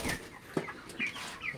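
A broiler chicken sitting on a weighing scale gives several short, faint clucks in quick succession, close and alone without voices.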